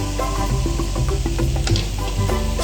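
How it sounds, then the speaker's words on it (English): Potatoes and spices being stirred in a hot pan for a raw-mango stuffed capsicum dish: a loud sizzle with a scraping, shuffling stir running throughout. "Stir to mix well."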